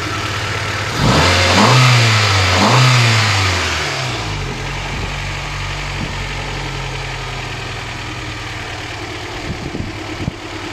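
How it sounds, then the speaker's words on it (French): A car engine starts and is revved hard twice in quick succession, loud and close, then settles into a steady rumbling idle that runs on to the end. "Tu vois, une bonne voiture, on peut accélérer encore au gaz."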